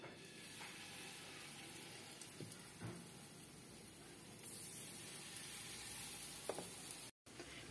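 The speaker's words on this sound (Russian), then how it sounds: "Масло я уже разогрела. Сейчас будем жарить." Steady sizzling of zucchini fritter batter frying in hot oil, a dense crackling hiss throughout with a few soft clinks, briefly cut off near the end.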